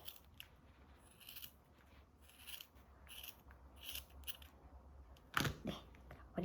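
Scissors snip through the hair of a handmade Czech marionette doll in a series of quiet, close cuts, with a sharper burst of handling noise near the end.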